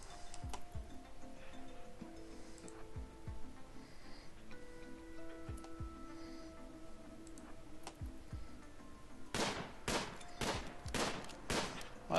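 Rapid bursts of gunfire in the Rimworld video game, a tight volley of loud shots near the end after a stretch of quieter ticking game sounds.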